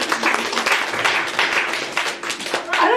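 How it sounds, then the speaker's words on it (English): A room full of people at a bon voyage party gives a round of applause, a dense, steady patter of many hands clapping at close range for several seconds. "Round of applause for half a minute."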